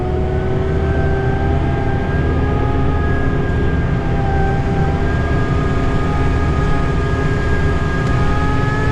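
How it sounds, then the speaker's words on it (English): A John Deere 4066 tractor drives forward past gravel piles on a snowy farm, its engine giving a loud, steady drone with a constant hum throughout and no talk. "And we're moving forwards past the gravel piles."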